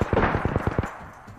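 Rapid automatic gunfire in the battle royale video game Apex Legends, a burst of about eight evenly spaced shots that fades into a quieter tail.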